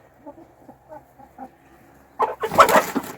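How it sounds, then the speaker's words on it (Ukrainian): Soft, scattered clucking from a few hens about six months old, then a louder burst of squawking and flapping commotion near the end. "Отакі в мене кури"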